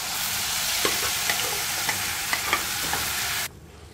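Puran filling sizzling in hot ghee with green cardamom powder over a lowered flame for puran puri, a steady close fry with scattered stirring scrapes before the sound drops off sharply near the end.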